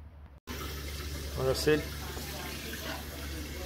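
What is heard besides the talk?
cold tap water running over cooked crayfish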